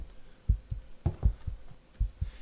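A heartbeat in the horror game Repeat thumps in slow, low double beats, about four pairs, deep and close with no talk over it.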